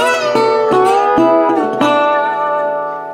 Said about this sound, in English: if I was to play a lick without muting any of the strings,